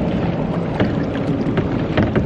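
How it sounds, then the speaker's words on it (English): Boats and jet skis running on open water, a steady broadband engine and hull roar with a few louder surges passing close, no talking. "you can hear a lot of jet skis ripping through and stuff"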